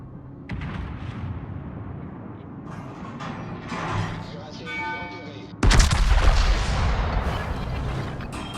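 Warship gunfire booms in a naval battle game, with a sudden loud blast of shot near the middle followed by a sustained rumble, over a low background of mechanical game noise and engine hum.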